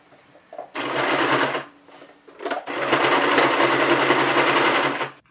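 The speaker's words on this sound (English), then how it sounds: "then I just have to top stitch the bottom, which is basically a straight line" A sewing machine top stitching a straight seam on a craft project runs in two close, steady bursts of rapid needle chatter, the first short and the second longer, separated by a brief pause.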